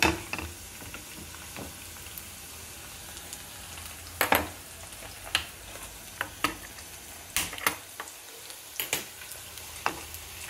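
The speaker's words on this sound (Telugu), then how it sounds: "ఇప్పుడు ఈ పల్లీలని స్టవ్ పైన పెట్టుకొని రోస్ట్ చేసేసుకుందామండి" Peanuts dry roasted without oil in a pan on a stove over low heat, giving a soft continuous sizzle with scattered sharp clicks and scrapes as the nuts are stirred and shifted.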